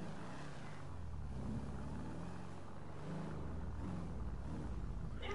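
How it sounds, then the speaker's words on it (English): A car engine in GTA 5 revs and roars with a deep, throaty rumble that rises and falls across the whole stretch, loud and steady without talk. "Dude, my car sounds so good."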